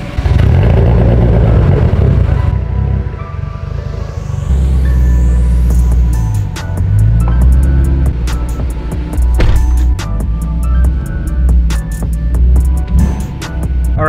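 A car engine with a sudden large exhaust leak revs and rumbles loudly with a raspy, popping exhaust note, accompanied by clattering and sharp ticking bursts.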